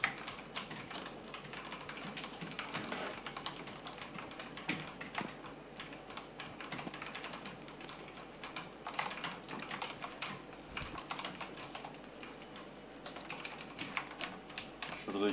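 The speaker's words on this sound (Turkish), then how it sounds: "Klavye sesi gelir arkadaşlar, yapacak bir şey yok." Steady computer keyboard typing clatters throughout a PUBG Lite duo game stream, quiet and close, with irregular bursts of keystrokes and faint background sound.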